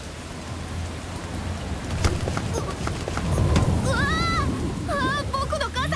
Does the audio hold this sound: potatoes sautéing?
no